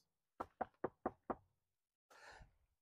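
Five quick knocks on wood ring out in an even rhythm, close and crisp, followed after a short pause by a brief rustling burst.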